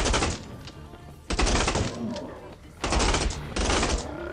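In the video game Days After, bursts of automatic gunfire ring out at an amusement park, with three or four loud rapid volleys separated by short pauses.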